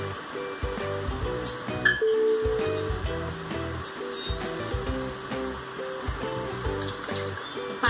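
Water poured steadily into a pot, two bowls' worth for rice flour kurdai dough, a continuous splashing rush under background music.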